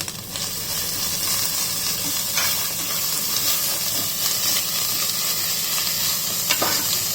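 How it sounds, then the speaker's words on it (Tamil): Ginger garlic paste with coriander and mint sautés in a pan for tomato rice, a loud, continuous sizzle broken by occasional scraping stirs, with no voices. "ஜிஞ்சர் கார்லிக் பேஸ்ட் அந்த பச்சை வாசம் போட வச்சு நல்லா வதக்கிக்கோங்க"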